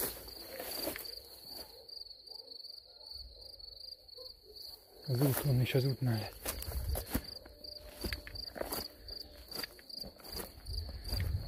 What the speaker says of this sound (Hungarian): Mennyi tücsök?